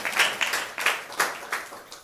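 A church congregation claps in short rhythmic bursts, about six swells of applause over two seconds, moderately loud and close with no talk over it.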